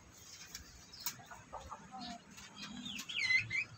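A hen in a backyard, soft clucks and short chirpy calls scattered over quiet background noise, rising slightly toward the end.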